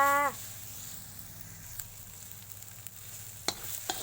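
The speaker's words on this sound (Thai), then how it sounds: "ผัดพริกแกงให้มันหอมก่อนนะคะ" Southern Thai curry paste frying in a pan, a low steady sizzle running quietly throughout, with a few faint clinks of a utensil near the end; a short harmonic tone sounds at the very start.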